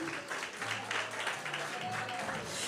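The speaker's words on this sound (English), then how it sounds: "Clap it up for Taya, everybody" Applause from a church congregation at a Sunday morning worship service, a steady wash of clapping at low level with faint talk mixed in.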